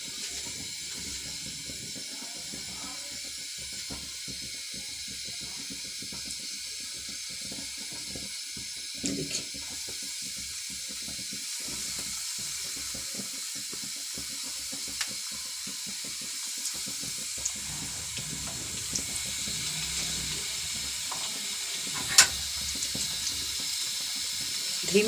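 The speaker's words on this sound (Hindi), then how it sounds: "धीमी धीमी आंच में इनको हल्का हल्का सा ब्राउन सा फ्राई कर लेंगे" Bread slices frying slowly in ghee over low heat for shahi tukray give a steady, even sizzling hiss that runs throughout, with a few faint clicks and no talking.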